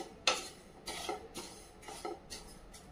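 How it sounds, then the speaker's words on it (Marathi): Niger seeds (khurasni) are dry roasted in a pan over medium heat, with a spatula stirring them in several distinct scraping strokes, each a gritty rasp against the metal, fairly quiet and close, with no talking. "तर मीडियम आचेवर असे भाजून घेऊया"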